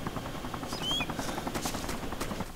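Automatic gunfire in a helicopter combat video game, rapid repeated bursts running steadily over a constant rotor-like drone, with a brief whine in the middle.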